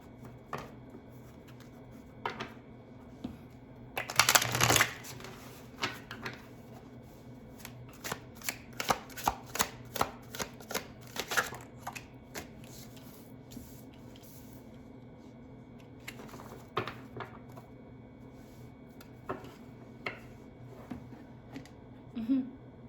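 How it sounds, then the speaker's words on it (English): Tarot cards are shuffled in quick riffling bursts, one loud flurry early and scattered softer shuffles and taps afterward, close up and otherwise quiet. "Maybe like one more quick shuffle, and then I'll move on."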